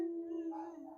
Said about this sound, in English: All I hear is Virgil upstairs howling